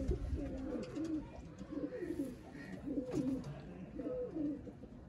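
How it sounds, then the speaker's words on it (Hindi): Repeated soft cooing calls from an A+ quality black-faced breeder quail, pure stock, carried in a rhythmic series of low warbling phrases over steady background hum; no speech. "ये जी एक और A+ क्वालिटी का दोस्तों बटेरा"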